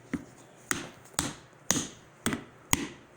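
Six sharp, hollow knocks at roughly half-second intervals as a carved piece of pumpkin, the mouth section, is tapped loose and pushed through the shell during pumpkin carving. The knocks are close and distinct, with quiet gaps between them and no talk.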